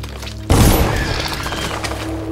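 Pistol fire in the stealth game Dishonored: a loud, sudden blast followed by a dense rumbling tail of noise that fills the rest of the moment.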